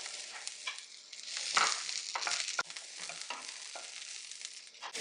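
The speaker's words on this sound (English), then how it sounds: "Now I am going to add the roughly chopped onions." Roughly chopped onions frying in a pan for a home-cooked chicken pulao, a steady broadband sizzle with stirring scrapes that swell briefly in the middle, close and continuous with no talking.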